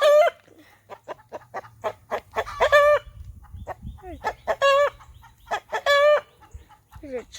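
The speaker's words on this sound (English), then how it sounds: "Here we are, my chicken pen. There's my chickens." Chickens clucking and a rooster crowing repeatedly in a farm chicken pen, close and loud, with harmonic crows and short clucks alternating over a faint background hum.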